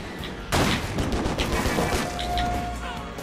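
A barrage gunfire attack in the video game Stranglehold, loud and dense, bursting in with a sharp crash and carrying on as a sustained volley of shots.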